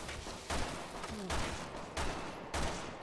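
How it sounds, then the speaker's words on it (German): Gunfire in the video game Resident Evil 6: several loud bursts of shots at roughly half-second to one-second intervals, with a steady wash of game noise in between. "Wollte sagen, ich höre so Schüsse"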